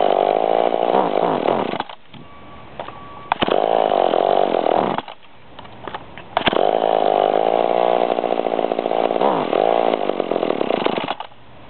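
A McCulloch chainsaw runs loud and close with a steady two-stroke buzz, repeatedly dropping out into brief near-silent gaps as it stalls and is restarted, then roaring back.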